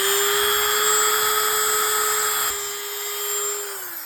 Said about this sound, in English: So I'm taking this Dremel and making the hole a little bigger